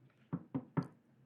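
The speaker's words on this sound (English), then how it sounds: "I'll just knock." Three quick knocks on a door, evenly spaced and fairly faint, with a short quiet moment before and after and no voices.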